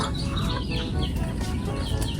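Native hens cluck close by, a dense continuous run of short throaty calls filling the moment with no talk over it.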